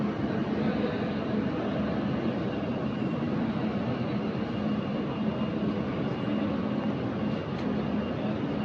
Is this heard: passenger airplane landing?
yes